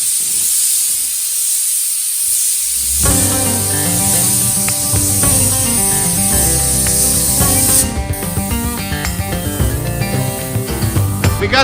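A paint spray gun hisses in long continuous bursts over the exposed hood of a Jeep MJ Comanche, laying a light coat, loud and close with a brief break near the end.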